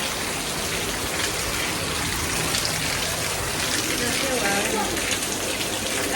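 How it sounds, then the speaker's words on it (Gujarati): Heavy rain pours down in a steady, dense hiss of water across the whole scene, loud and close, without a break. "ફૂલ એકદમ ચાલુ થઈ ગયો વરસાદ."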